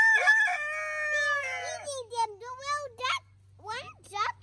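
Chickens on a farm let out a long rooster crow, then clucks follow, close and clear, with a voice chattering between and over the birds.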